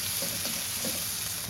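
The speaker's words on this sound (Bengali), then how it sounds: "কড়াইতে তেল দিয়ে কেটে রাখা পেঁয়াজ দিচ্ছি, এগুলো আমি হালকা লাল করে ভেজে নেব।" Chopped onions sizzle and crackle steadily in hot oil in a kadai, a close, even frying hiss with no voices.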